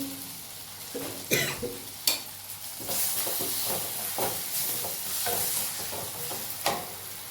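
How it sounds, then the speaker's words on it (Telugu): Tomatoes fry in a pan while being stirred for egg cutlets. A soft sizzle runs throughout, broken by sharp scraping clinks of a spoon against the pan at irregular intervals. The sound is close and fairly quiet, with no talk. "టమాటాలు బాగా ఫ్రై చేసేసుకోవాలి"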